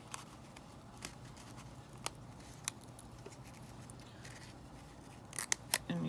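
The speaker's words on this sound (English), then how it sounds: "just take some scissors and just cut out little triangles all around the cone" Scissors snipping little triangles out of a paper cone, giving sharp separate cuts about once a second, then a quick cluster of snips near the end, close and fairly quiet against a soft room background.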